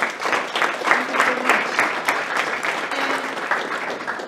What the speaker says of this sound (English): Can you just give a round of applause for yourself?